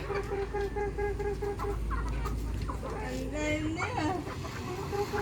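Native chickens cluck in a busy barnyard, with overlapping bird calls and brief voices in the background.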